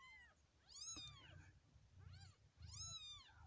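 Several high, drawn-out cat meows sound softly over low background rumble, three or four calls in a few seconds.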